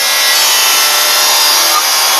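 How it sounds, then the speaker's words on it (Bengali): A seat is being cut, giving a loud, continuous harsh rasp that stays close and unbroken throughout. "আর এই মুহূর্তে আমি এখন সিট কাটছি"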